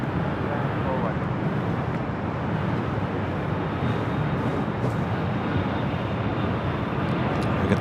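A Boeing 747 rolls for takeoff on runway 25 left at LAX, heard as a steady, broad jet-engine roar from a distance that holds evenly throughout.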